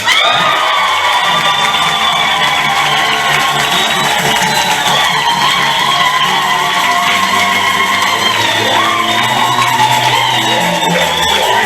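A church congregation at an Easter Sunday mass cheers and shouts loudly and without a break, a dense crowd roar that lasts several seconds.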